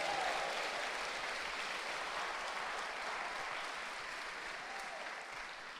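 A church congregation applauding during a finance conference service, sustained dense clapping from a crowd that fades slowly over several seconds.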